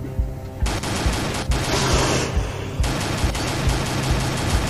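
Sustained in-game automatic gunfire in Z.O.N.A Shadow of Limansk, a dense steady rattle of rapid shots running continuously with a few louder bursts, close and loud.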